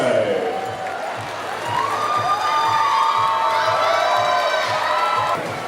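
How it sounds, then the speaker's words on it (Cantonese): A studio crowd at a televised show in Hong Kong cheers and applauds as contestants are introduced, loud overlapping shouts and whoops with clapping underneath, close and continuous. "繼續掌聲嘅大家"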